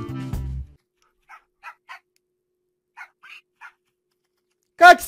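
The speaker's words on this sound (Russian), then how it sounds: "Да вы даже ночью гавкаете!" Dogs barking in Minecraft at night: a loud low burst at the start, then several short faint yelps spaced apart, and a sharp loud bark at the end.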